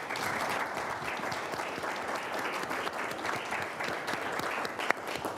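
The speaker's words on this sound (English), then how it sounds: "Please give a round of applause to our candidates." An audience at a city council candidate forum applauds the candidates, producing a dense, steady patter of clapping at moderate volume that continues evenly throughout.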